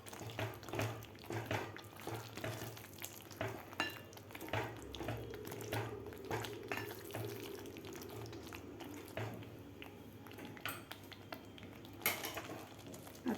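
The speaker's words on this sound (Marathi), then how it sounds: "आता फणस घातल्यानंतर आपल्याला व्यवस्थित मिक्स करून घ्यायचं आहे" Fried jackfruit is mixed with masala in a pan, with repeated clinks and scrapes of a spoon against metal in an irregular rhythm, fairly quiet and with no talk.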